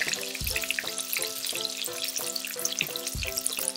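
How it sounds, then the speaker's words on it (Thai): Tofu skin sheets deep-frying in hot oil until crisp: a constant, close, fizzing crackle of bubbling oil fills the whole stretch, over a steady repeating tonal pattern in the background, with no one speaking. "แล้วก็เอาเต้าหู้ที่เราเตรียมไว้ลงทิ้งทอดเลย ระวังน้ำมันกระเด็นนะคะ"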